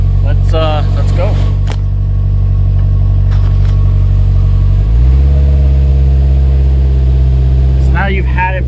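A Polaris Slingshot R, an open-top three-wheeler, pulls away down the road. Its steady engine drone rises in pitch partway through, with wind and road noise underneath and people talking over it.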